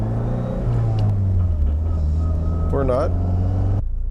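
A car held in race mode with a Sprint Booster fitted gives a steady, loud low rumble close by, while a person speaks briefly over it before the sound cuts off near the end.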